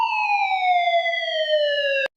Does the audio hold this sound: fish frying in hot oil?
no